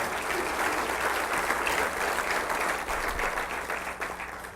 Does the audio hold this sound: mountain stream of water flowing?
no